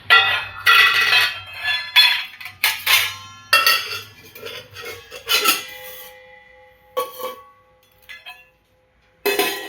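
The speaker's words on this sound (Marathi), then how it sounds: "बघा माझे सगळे डबे सुकलेले आहेत आता मी ते डबे झाकण लावून घेते प्रत्येक डब्यांना" Lids are pressed and clattered onto dried kitchen storage containers one after another, giving a series of close, irregular clinks and knocks separated by short pauses.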